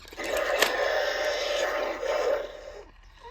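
Bright electronic sound effects from a Jurassic World Rebirth dinosaur toy, a busy buzzing roar with a sharp chirp near the start, loud and close, fading out at the end.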